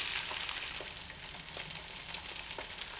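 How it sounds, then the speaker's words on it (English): Eggs frying in a frying pan make a steady, dense crackling sizzle that holds evenly for a few seconds, quiet overall and with no voices. "Looks like a frying pan and some eggs to me."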